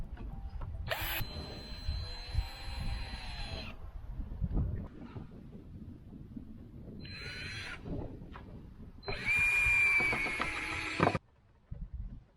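A power drill pre-drills holes in wood for a cabin build, whirring in several separate bursts of a few seconds each with quieter pauses between, close and fairly loud.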